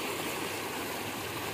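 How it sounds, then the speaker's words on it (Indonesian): A river swollen by floodwater from the mountains in Subang rushes past as a steady, broad roar of flowing water, continuous and fairly loud with no talking over it. "Nah, ini aliran sungai yang tadi ya,"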